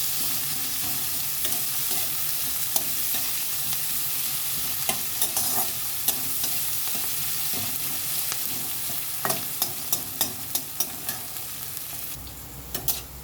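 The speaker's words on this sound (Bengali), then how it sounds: "পেঁয়াজ ভাজা হয়ে গেছে আমার, দেখুন।" Onions are stir-fried in a pan, with a continuous bright sizzle and repeated sharp scrapes and clicks of a spatula that become quicker near the end. There is no talk.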